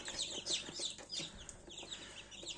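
Black Copper Marans chicks in an incubator make a steady run of high, bright peeps and chirps, close and fairly loud, overlapping throughout with no talking.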